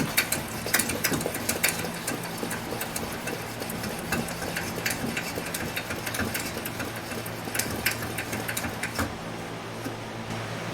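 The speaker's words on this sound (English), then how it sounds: "now I'm going to give this lantern about 30 pumps" A 1972 Coleman 200a lantern being pumped around 30 times, heard as a continuous run of quick rhythmic mechanical clicks and squeaks at close range, steady for about ten seconds with no talk.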